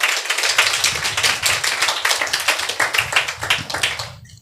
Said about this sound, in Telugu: చప్పట్లు కొడతారా?